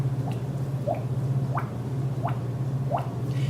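A human voice imitates a water drip, producing five evenly spaced, hollow plinks with rising pitch, set over a low steady hum in a quiet room.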